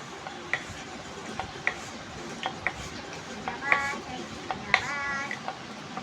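Chapati dough is rolled out gently, giving soft knocks and light taps of the rolling pin against the board at an irregular pace over faint background noise, close and with no talking.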